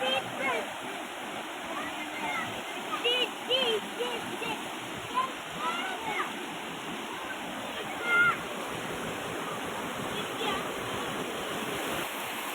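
A stream and waterfall in a Kerala village rush in a steady, broadband wash, with brief splashes rising now and then and voices speaking faintly over the flow.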